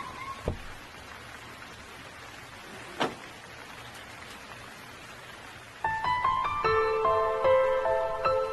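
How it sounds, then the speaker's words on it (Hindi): Monsoon rain in Mumbai pours in a steady, even hiss throughout, with a couple of brief knocks, and a bright melodic tone joins over the last few seconds. "ये मुंबई की बारिश है, इतनी जल्दी बंद नहीं होगी।"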